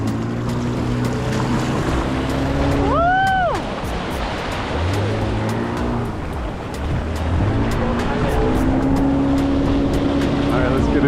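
Steady motorboat engine drone towing a banana boat over splashing sea water and wind off Tortuga Island, Costa Rica, with voices shouting and chatting throughout; a brief rising whistle-like tone cuts through midway.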